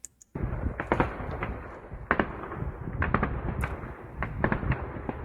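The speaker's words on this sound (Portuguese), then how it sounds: "Parece principalmente disparos de defesa antiaérea tentando atingir talvez um drone." Distant anti-aircraft gunfire in Ukraine pops and thuds in irregular bursts, some shots clustered quickly, echoing over a constant low rumble.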